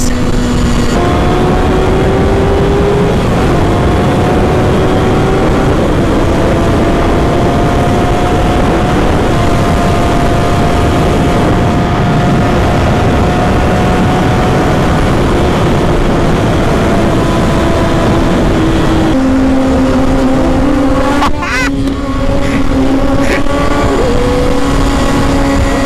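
A Ducati V4 motorcycle engine runs steadily with a loud, sustained tone that shifts pitch a few times, then rises with revving bursts near the end; no voices.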